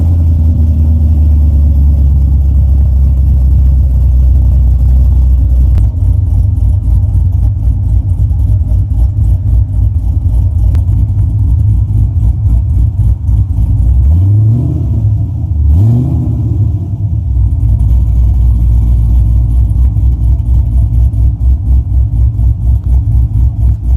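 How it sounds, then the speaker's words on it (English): A silver C6 car engine runs loudly and close throughout on a cold start, a steady low rumbling idle with a brief rise and fall in revs partway through and no talking. "Now, I'm gonna give y'all a cold start right now."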